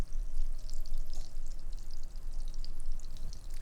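Bread sizzles in butter in a pan over medium-high heat, a steady, soft crackle and hiss that continues on its own.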